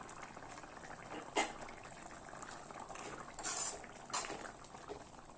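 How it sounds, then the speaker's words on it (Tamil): Broccoli and potato gravy bubbles at a steady boil in a pot, a continuous close burble with a few louder pops and splashes, no voices. "நல்லா கொதிச்சு உருளைக்கிழங்கு இந்த ப்ரொக்கோலி எல்லாம் நல்லா வெந்துடுச்சு"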